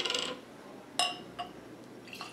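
Monkey Shoulder blended scotch whisky being poured into a glass, a brief liquid splash and glassy clinks in a few short bursts, close and fairly quiet.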